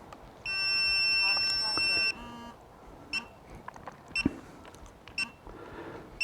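Holy Stone HS900 drone controller sounding its return-to-home alert, a sustained electronic tone lasting about a second and a half, followed by scattered soft clicks and taps.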